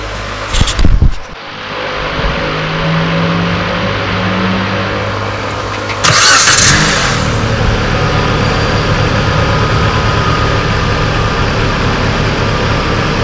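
A 2014-2017 Jeep Patriot engine cranks and fires with a short burst, then settles into a steady, close idle with a faint hum and fan whir.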